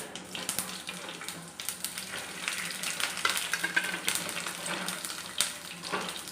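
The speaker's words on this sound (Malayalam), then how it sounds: "എണ്ണ നന്നായിട്ട് ചൂടായിട്ടുണ്ട്. കടുക്, അപ്പോൾ കടുക് പൊട്ടി വന്നിട്ടുണ്ട്. അതിലോട്ട് വെളുത്തുള്ളി," Mustard seeds, garlic and green chilli sizzle and crackle steadily in hot oil, a close, continuous frying hiss with scattered pops and occasional stirring, with no talking.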